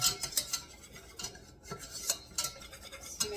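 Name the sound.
stirring a roux in a pan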